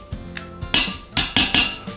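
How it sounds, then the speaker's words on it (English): Potatoes for a venison shepherd's pie being mashed in a pot, heard as a few loud knocking thuds of the masher against the pot after some softer taps, close up and with no speech. "So first off, we're just gonna get to mashing it beforehand."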